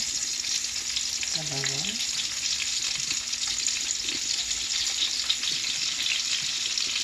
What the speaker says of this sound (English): now our grease should be hot. We're going to add our onions